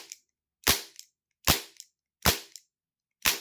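A Webley MKVI CO2 pellet revolver fires four sharp, loud cracks at about 0.8-second intervals, each followed by a brief hiss of escaping gas in an otherwise silent space.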